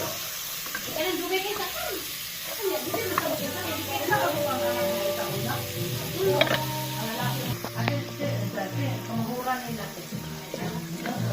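Onions sizzling loudly in a pan for a shrimp and corn seafood boil, a continuous frying crackle with stirring, while people talk over it throughout.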